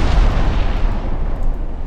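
Torpedo hits exploding against ships in the naval battle game Ultimate Admiral Dreadnoughts, a loud, sustained low rumbling blast that fills the whole moment with no talking over it.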